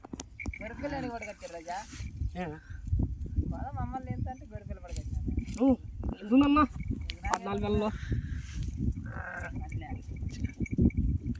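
A young ram sheep, having a bell tied around its neck on a sheep and goat farm, bleats several times in wavering cries close by, mixed with people talking and handling noises.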